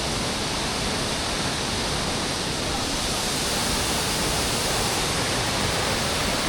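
Tagbibinta Falls gives a steady, full rush of falling water, close and loud, unbroken throughout with no distinct voices.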